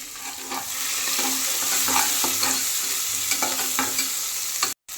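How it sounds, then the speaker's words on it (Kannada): Onion, garlic and curry leaves roasting in a pan with oil, with tomato just added, give a steady close sizzle and frying hiss, broken by scraping stir strokes; no one speaks. "ಚೆನ್ನಾಗಿ ಸ್ವಲ್ಪ ಈರುಳ್ಳಿ ಮತ್ತು ಬೆಳ್ಳುಳ್ಳಿ ಎಲ್ಲ ಚೆನ್ನಾಗಿ ಫುಲ್ಲು ರೋಸ್ಟ್ ಆಗಬೇಕು."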